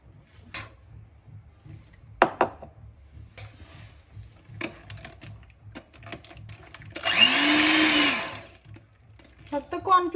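An electric mixer or blender whirs steadily for about two seconds while cornflour is blended into milk, loud and close. Scattered clinks and utensil knocks come before and after it, with a voice speaking faintly in between.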